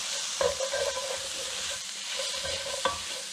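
Spices sizzle and hiss softly in a hot pan as they bloom during Yemeni cooking, with two sharp scraping stirs cutting through the steady frying.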